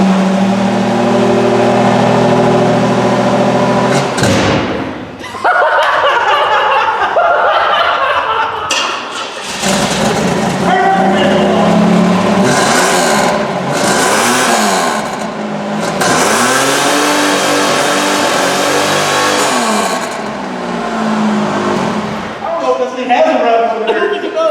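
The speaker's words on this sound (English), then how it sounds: "So I'll start the car up, rev it out a little bit" A 1986 Oldsmobile's engine cranks and catches, then revs repeatedly in loud surging bursts, with people talking over the roar.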